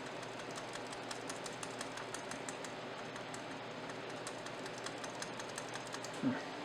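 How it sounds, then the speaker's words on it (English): Keys tap repeatedly on a Lenovo IdeaPad gaming laptop keyboard, faint, close-up clicks in an irregular series as F2 is pressed over and over, with a soft thump near the end. "And then on the keyboard, keep pressing F2."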